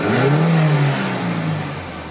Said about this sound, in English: I'll give it a quick rev.